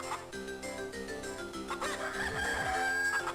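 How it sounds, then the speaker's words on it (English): Golden chicken in the video game The Minish Cap letting out a crowing call over game music, with layered synthesized tones and no speech. "hello, golden chicken"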